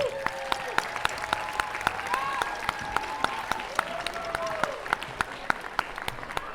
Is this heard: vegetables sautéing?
no